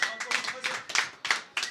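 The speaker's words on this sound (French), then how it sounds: "j'aimerais qu'on l'applaudisse très fort" Clapping from a small audience applauding Christian Brun on a French talk show, coming in short irregular bursts with voices mixed in.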